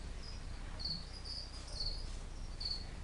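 A cricket chirps in short, high, thin bursts, a few spaced trills close by against quiet background hiss, with no voices.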